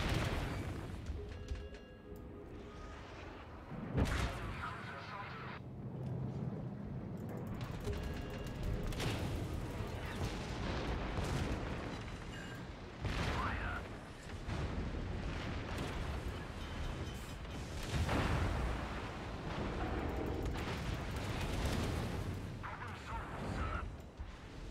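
Warship salvos of high-explosive shells in World of Warships, heavy booming blasts and rumbling explosions recurring throughout amid dense continuous battle noise.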